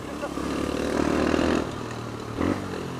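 A 125cc motorcycle engine idles and revs nearby, rising in two short bursts over a steady low rumble, with voices talking in the background.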